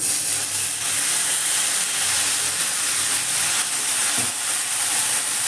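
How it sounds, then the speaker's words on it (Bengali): Loud, steady sizzling and hissing as a little water hits a hot pan of vegetables and semolina on a gas flame, a continuous frying roar with a faint stirring knock, no talking. "এবার আমি অল্প জল দিয়ে দেবো"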